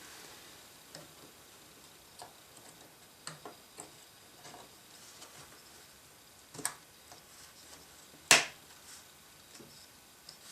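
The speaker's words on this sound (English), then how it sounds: "You hear the snap, you know the tab is closed" RAM sticks seated into motherboard slots give faint, scattered ticks and small clicks, then one sharper snap as a retaining tab closes, close-up in a quiet room.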